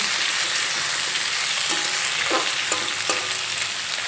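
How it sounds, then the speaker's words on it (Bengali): Mixed vegetables frying in a pan, a loud, even sizzle close up with a few soft clinks of stirring, no talk. "সবজিগুলো একসঙ্গে 2 মিনিটের মতো ভেজে নিয়েছি।"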